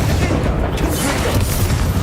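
A Confringo fire blast spell bursts in Hogwarts Legacy, a dense, rumbling explosive roar that fills the whole moment without break, loud and close amid game noise.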